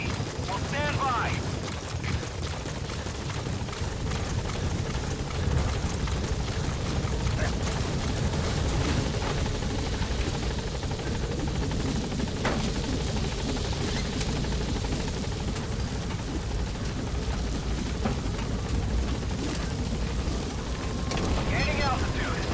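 Support helicopter arriving at a landing zone in Metal Gear Solid V, a continuous rotor drone and engine rumble holding steady throughout, close and moderately loud, with a radio voice speaking over it.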